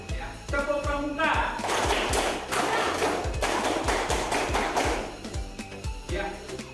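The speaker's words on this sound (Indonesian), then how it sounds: "Ya, tepuk pramuka." A classroom of students performs a rhythmic scout clap, sharp group claps and thumps repeating in a steady patterned beat, with brief bursts of voices throughout.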